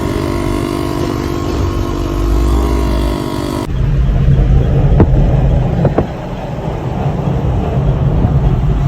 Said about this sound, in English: The reality of beach driving.